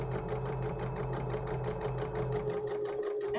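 A sewing machine runs steadily through a collar seam on a summer tunic, its needle chattering in an even rapid rhythm close by, then slowing slightly near the end with no voices.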